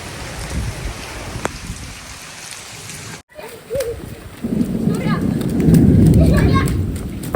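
Steady rain pours down with a wash of noise, loud and close, while people talk and call out over it; a brief cut splits the recording.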